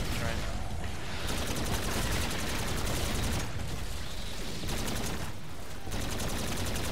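Rapid gunfire during a boss fight in a video game, sustained bursts of machine-gun-style shots rattling in long loud volleys with brief gaps between them, while players talk over the action.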